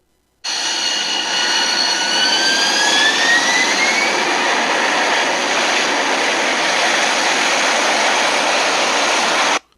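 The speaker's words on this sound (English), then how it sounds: "the barn roof opens up, and the Batjet takes off VTOL." A jet engine starts abruptly and blasts at full power for a vertical takeoff, a loud, sustained roaring rush with a rising whine that continues steadily before cutting off suddenly.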